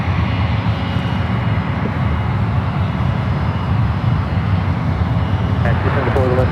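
A jet airliner holding on the runway at San Francisco airport, a loud continuous engine roar that stays steady and close without a clear rise or fade.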